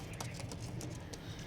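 Pakistani lambadi teddy pigeons cooing softly, faint repeated coos with light rustling, close by and quiet, no talking.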